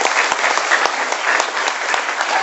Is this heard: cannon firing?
no